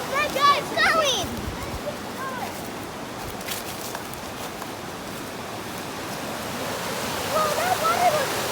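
Steady broadband rush of flowing water at a waterfall along a hiking trail, filling the whole stretch, with faint birdlike chirps early on and a slight swell near the end.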